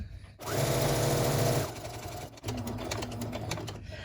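A sewing machine back-stitches quilt-as-you-go fabric for a log cabin table runner, whirring in a steady close burst for about a second, then slowing into a lighter, uneven stitching rhythm.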